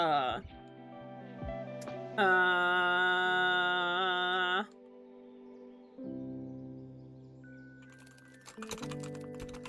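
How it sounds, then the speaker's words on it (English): Computer keyboard typing, heard as rapid, light clicks that are clearest near the end and mostly masked beneath sustained tonal voice-like sounds. "I'm just typing. Listen. I'm typing some gratuitous,"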